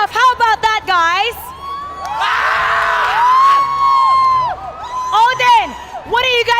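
A loud crowd of people in an esports arena at a world championship knockout match cheers and yells in a sustained swell, while excited voices shout over it before and after.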